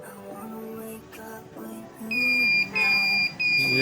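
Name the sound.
short-circuit beep from 1502DS mobile repair power supply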